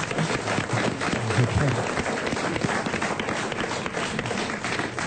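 Studio audience at a French television talk show applauds, a dense, steady patter of clapping throughout with voices speaking over it.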